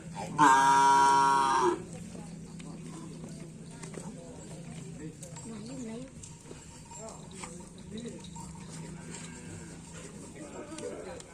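New Karapan Sapi race bulls at Lanceng, Java give a loud, brief moo at the start, followed by a long stretch of quieter shuffling and low animal sounds while people talk nearby.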